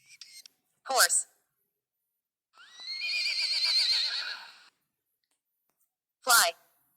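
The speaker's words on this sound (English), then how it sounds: "Horse." A horse whinnies in one long, wavering neigh lasting around two seconds, set between short spoken words at the start and end.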